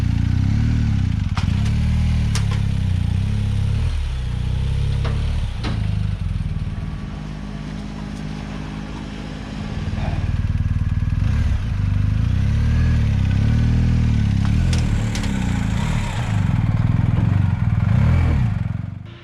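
Motorcycles being ridden up a ramp onto a truck: a loud engine rumbles and revs with some clattering, surging and easing over about twenty seconds.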